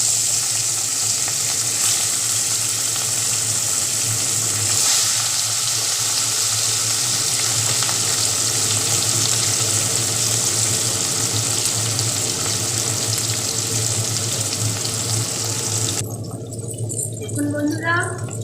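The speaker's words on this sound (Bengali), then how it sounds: "এবার এই মাছগুলোকে একে একে ভাজা করব।" Pieces of rohu fish fry in hot oil, a loud, unbroken sizzle that holds steady throughout and dips slightly at the very end.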